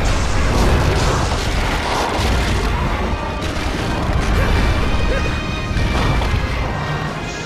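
Bombs blast in Monster Hunter Freedom Unite, a dense run of loud crashing booms and smashing impacts layered over constant game noise.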